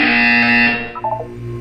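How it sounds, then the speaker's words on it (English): A loud, steady electronic buzzer from the game Portal 2 drones for under a second, then cuts off, leaving a faint hum and a couple of soft blips. "You will hear a buzzer."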